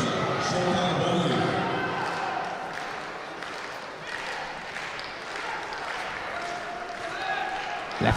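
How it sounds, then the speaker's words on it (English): Crowd at a judo Grand Prix in Tashkent clapping hands in rhythmic unison, a dense patter of claps layered over a steady arena murmur that holds throughout. "hands clapping"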